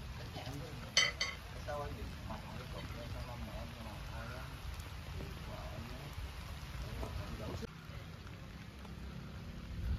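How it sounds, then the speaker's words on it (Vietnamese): Rain falls steadily outdoors among large clusters of potted kumquat trees grown for the Lunar New Year, a continuous soft patter with occasional louder drips and faint background voices. "Trời đang mưa rồi các bạn."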